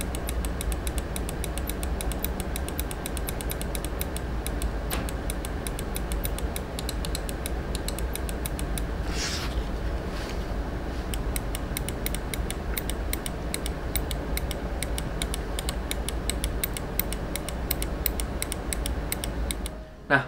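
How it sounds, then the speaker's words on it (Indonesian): Dense, rapid clicking and creaking from the faulty right button of a Vortex GX770 computer mouse, a squeaky, chirping texture close up that runs nearly nonstop with brief gaps over a steady low hum. "right click pada mouse ini nih ada kayak semacam squeaking noise gitu."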